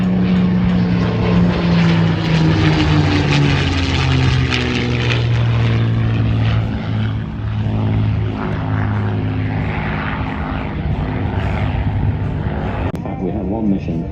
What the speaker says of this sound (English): The Spitfire and Mustang coming in for another pass.